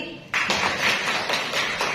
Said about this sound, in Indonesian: Kasih tepuk tangan lagi